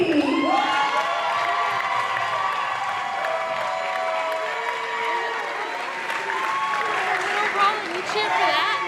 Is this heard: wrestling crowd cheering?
yes